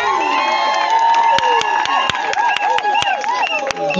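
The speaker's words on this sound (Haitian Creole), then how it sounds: "Est-ce qu'on peut acclamer, s'il vous plaît?" Wedding guests cheer and whoop together in a lively crowd at a marriage ceremony, a steady roar of voices with claps and shouts, nearby voices calling out over it.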